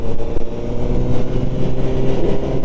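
A 2022 Honda CB1000R with an IX Race aftermarket silencer burbles with a deep, steady engine rumble, rising slightly in pitch toward the end, heard nearby and alone.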